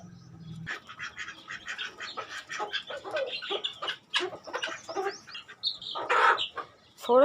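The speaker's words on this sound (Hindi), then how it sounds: "ये सारे पत्ते मैं अंदर अपने चिक्स को डाल देती हूँ, वो खा लेंगे" Backyard chicks cluck and peep busily while pecking at leaves tossed into their pen, a dense run of close, overlapping chirps and clucks with a few louder calls near the end.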